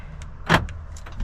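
A parked car being locked gives off one short, bright chirp-like burst midway through, with a faint low hum before and after.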